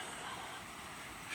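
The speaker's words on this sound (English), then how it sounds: "frigid Owyhee River we have to cross if we want to get in it" The frigid Owyhee River in the canyonlands of southeastern Oregon gives a faint, steady rush of flowing water, soft and constant throughout.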